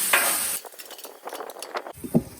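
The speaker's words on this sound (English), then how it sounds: "These are cooking down nicely, getting a little color to them." Onions and peppers frying on a Blackstone griddle, a close crackling sizzle with scraping and spatula clinks, brief hiss bursts fading and returning.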